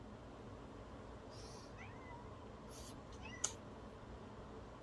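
A house cat meows a few times indoors, faint and brief, against a steady background hiss.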